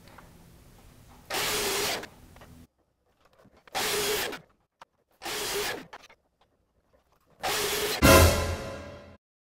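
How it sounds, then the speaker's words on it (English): A miter saw cuts wood to shape a hex nut, four separate loud bursts about a second each with quiet gaps between them, the last ending in a ringing spin-down, no talk. "At the miter saw, I shape it to actually resemble a hex nut."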